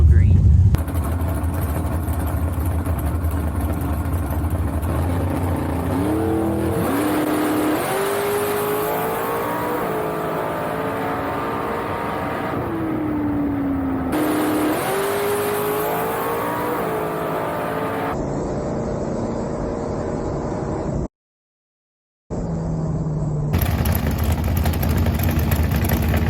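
Super Pro drag race car in a first-round pass, a loud engine roar that climbs through rising revs and gear changes, cuts off sharply, then rumbles again at close range.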